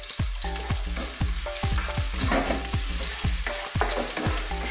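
Ginger, garlic and bay leaves frying in a preheated pan for pork ribs adobo sa gata, a loud close sizzle under rapid rhythmic metallic knocks and scrapes of a utensil stirring, no talking.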